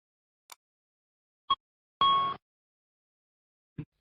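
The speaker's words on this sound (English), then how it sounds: "When the fault occurs, the ECAM system alerts the crew orally and visually. You will hear a single chime and see the master caution lights." Airbus ECAM single chime master caution alert, heard as one short bright electronic chime with a steady tone, surrounded by a few brief faint clicks in otherwise quiet cockpit training audio.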